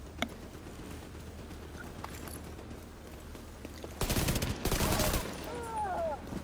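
Enemy gunfire aimed at the player in The Division 2, faint scattered shots early, then a loud dense burst of rapid fire lasting about a second, followed by quieter ambient combat noise.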